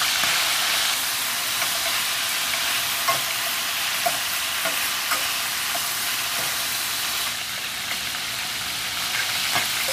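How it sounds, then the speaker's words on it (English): Meat searing in a hot pan gives a steady, dense sizzle that fills the whole stretch, with faint clicks and stirring touches scattered through it and no talk. "sear the meat for a while"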